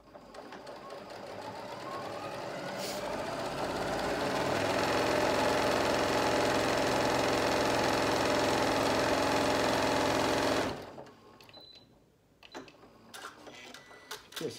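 A Janome M7 Continental household sewing machine stitches fabric with a continuous whirring drone that builds to a fast, steady run, then stops abruptly, followed by a few light clicks and handling sounds.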